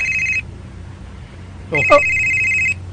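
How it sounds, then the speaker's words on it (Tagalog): A telephone rings with an incoming call, two electronic ringtone bursts separated by a pause, close and clear; a brief voice overlaps the start of the second ring. "Nawa, si Lily na sadang nanawag ni Monsa."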